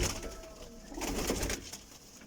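Breeding-stock pigeons (Taddy, Sialkoti and Ferozpuri birds) coo softly in a loft, low rolling calls rising and falling over about two seconds with a faint flutter, no voices.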